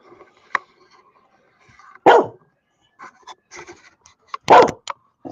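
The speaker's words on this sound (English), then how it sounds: "that's Nilu, who's barking and wagging her tail" A pet dog named Nilu barks indoors: a short yip, then two loud, close barks spaced a couple of seconds apart, with quieter rustling and small sounds in between.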